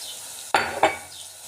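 Small chopped garlic cloves hit hot oil in a pan with two quick bursts of sizzle and a stirring scrape, close by, over a faint background hiss.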